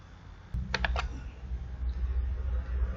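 Three quick keystrokes on a computer keyboard as the theme name Astra is typed, close and brief over a low steady room hum.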